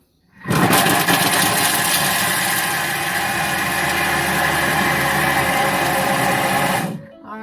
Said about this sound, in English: 6 seconds speed 8 is how long it takes to grate cheese